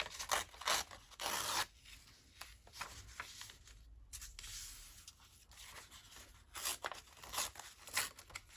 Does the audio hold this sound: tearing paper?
yes